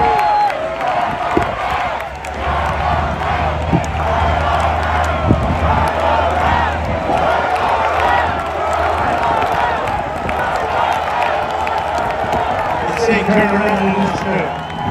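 A large crowd at a Donald Trump rally in New Jersey roars and cheers continuously, a dense, loud wash of voices with scattered shouts and claps throughout.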